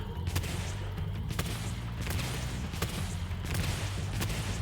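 Repeated cannon shots in Spyro 2: Ripto's Rage! Reignited, sharp blasts at roughly regular intervals over a low rumbling game backdrop, fairly close and moderately loud.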